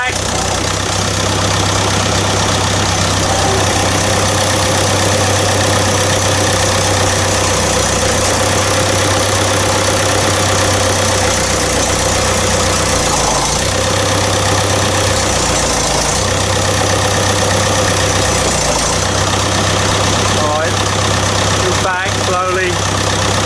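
An old engine that has sat unused for 30 years idles steadily and loudly throughout, with a constant low hum and rough mechanical texture, while voices talk over it and a few brief clicks sound near the end.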